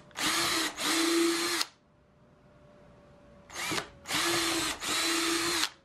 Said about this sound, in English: I'm going to take an 1/8 inch drill bit and just put some pre-drill holes toward an angle here.